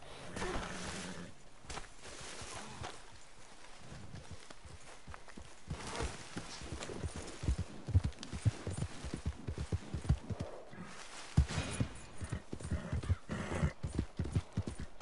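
Horse hooves clip-clop steadily at close range, a run of sharp irregular knocks that grows louder and denser toward the end, with no distinct neigh standing out.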